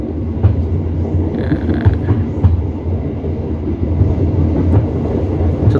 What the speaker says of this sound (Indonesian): Kereta kita akan menanjak pelan-pelan menuju ke stasiun Nagrek